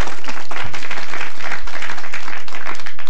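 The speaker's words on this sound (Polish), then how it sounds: "Brawa dla Krzysztofa." Studio audience on a Polish TV talk show applauds a guest, a short loud burst of clapping close by with no one talking over it.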